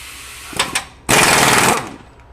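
Myers MTS53371 air impact wrench set in reverse on high at 150 foot-pounds, giving two quick short bursts followed by a loud sustained hammering run of about a second, then a fading tail.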